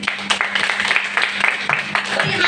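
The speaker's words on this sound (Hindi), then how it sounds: "जोरदार तालियां" Applause from an audience at a marketing plan presentation, uneven clapping with distinct sharp hits over a steady hum, heard for a few seconds with some voices in the background.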